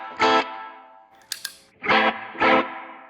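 Electric guitar run through a modulation pedal set to a rotary Leslie-style effect: three bold distorted chord stabs with swirling decay, separated by near silence and a couple of faint clicks, heard alone.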